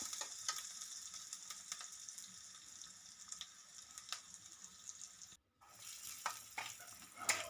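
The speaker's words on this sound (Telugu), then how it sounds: "ఉల్లిపాయలు బ్రౌన్ కలర్ వచ్చే వరకు బాగా వేయించుకోవాలి" Onions frying in a pan until brown give a steady soft sizzle with scattered crackles and occasional stirring scrapes, close by and fairly quiet, broken by a brief pause.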